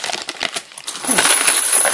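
A pile of 90% silver constitutional junk coins is dumped out, making a close, bright jangling clatter that builds into a dense metallic cascade.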